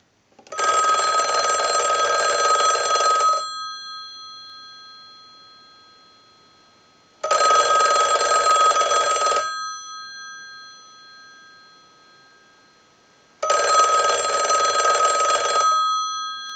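A Western Electric 500 rotary telephone's mechanical bell rings loudly in three long bursts, each about two to three seconds, separated by several seconds of fading ring and quiet.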